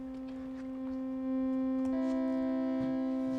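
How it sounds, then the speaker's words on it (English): A string instrument plays a sustained C, then a major-third double stop is added on top, both notes ringing together steadily and fairly quietly with light bow noise. "It's a nice, rich major third"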